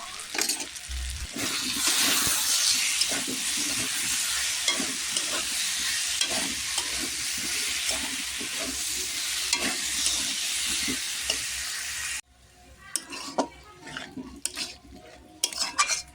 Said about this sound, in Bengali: এইভাবে আরও 2 মিনিট ভালো করে কষিয়ে নেব